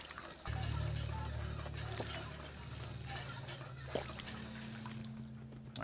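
Water running steadily from a small settlement pump in Fallout 4, a continuous pouring trickle that holds at an even level for several seconds with a faint clunk near the end.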